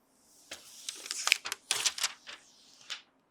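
Protective film being peeled off a new Majority Bard speaker bar fresh out of the box, a series of crackly, sticky ripping bursts that come in uneven pulls at close range with no talking.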